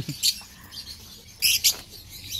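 Lovebirds chirp in short, high bursts, a few quick tweets scattered over a quiet background.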